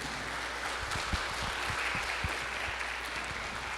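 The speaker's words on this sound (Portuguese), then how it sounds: "Dê uma salva de palmas para Jesus." Congregation at a worship service gives a round of applause, a fairly soft, even patter of many hands with a few heavier low thumps mixed in.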